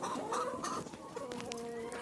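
Several chickens cluck and murmur close by, overlapping soft calls against a faint background of farmyard noise.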